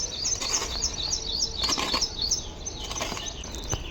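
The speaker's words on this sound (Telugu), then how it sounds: "ఏమేమో పక్షులు ఉరుకుతున్నాయి" Birds flutter and chirp outdoors near a house where clay is being mixed, giving a steady bed of wingbeats and high, repeated tweets with no talk.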